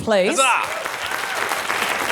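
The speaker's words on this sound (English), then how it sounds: "a round of applause for our panel" Applause for a panel at an audio industry summit, heard under a voice calling out at first and then continuing as a steady clapping wash.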